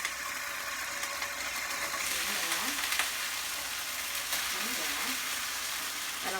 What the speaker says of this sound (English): This pan is sizzling a little bit